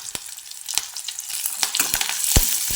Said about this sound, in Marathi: कांदा छान परतलेला आहे याच्यामध्ये कढीपत्ता टाकून घ्यायचा